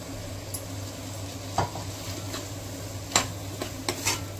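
Brinjal goes into a pan of spiced, sizzling masala for a Goan vegetable sabzi, with a steady low hiss of frying and several sharp scraping clinks of a spoon stirring against the pan.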